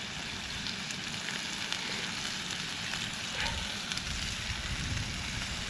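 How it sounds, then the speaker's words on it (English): Steady, crackling sizzle of a salt and chilli steak frying in a hot pan outdoors at a winter camp, continuous and close throughout with no talking. "It's just a salt and chilli sizzle steak, as you call it."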